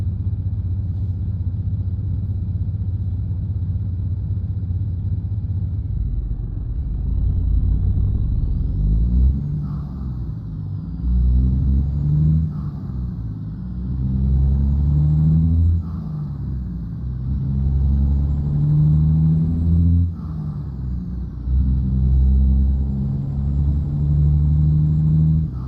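A heavy truck in American Truck Simulator, driving from Oregon to Texas, rumbles with a low, close diesel drone, then goes through repeated rising gear-by-gear acceleration surges with no talk over it.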